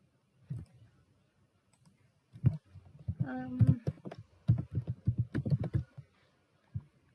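Fingers typing a search on a computer keyboard, with scattered clicks and short bursts of keystrokes, some mixed with a person talking nearby.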